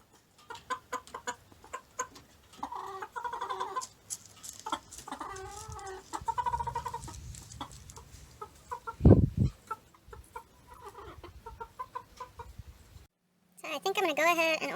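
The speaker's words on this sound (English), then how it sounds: "Hello, pretty chickies." Backyard chickens cluck in frequent short, close calls while a person talks among them, with one louder squawk midway and a brief silence near the end.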